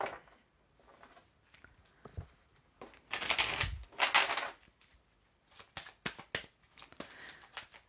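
Playing cards being picked up and shuffled by hand on a table, a series of close, soft riffling bursts and crisp flicks with brief pauses between, quiet and without talk.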